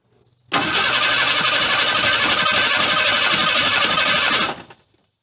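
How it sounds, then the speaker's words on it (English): A Ford Ranger engine, first start in six years, cranks over with a loud, steady whirring churn of the starter for about four seconds close by, then stops abruptly. "she's cranking over"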